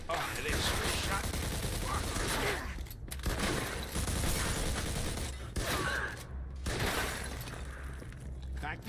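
Mafia II Definitive Edition gunfight: rapid, loud gunshots and cracking impacts with shattering debris fill the scene, with a voice talking over the fire.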